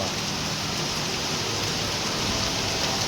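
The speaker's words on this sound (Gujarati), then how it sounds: "જો આ બહુ જ વરસાદ પડે છે" Heavy rain pours down in a dense, unbroken roar, loud and close, with no other sounds standing out.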